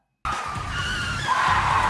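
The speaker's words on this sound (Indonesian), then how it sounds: "Kemudian Ray pun mengerem mobilnya secara mendadak" A car brakes suddenly in a film scene, tires skidding in a loud, sustained screech that starts abruptly after a brief silence and rises slightly toward the end.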